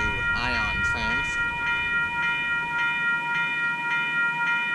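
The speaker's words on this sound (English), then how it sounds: "we're rail fanning more of the Waterloo Ion trams" A Waterloo ION light rail tram passes a busy road crossing at Caroline and Erb Street, its horn sounding at the start, followed by steady ringing tones and a continuous rumble of the passing train.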